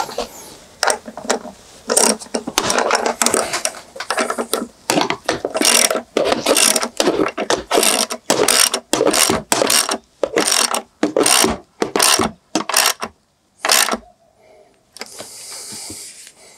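A ratcheting 6mm Allen key turns a bolt on a barn door in a long series of rapid clicking bursts separated by short pauses, close and loud, ending with a brief hiss.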